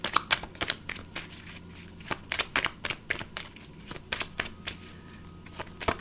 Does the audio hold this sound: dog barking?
no